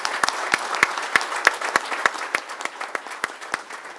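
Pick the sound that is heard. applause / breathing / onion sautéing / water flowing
applause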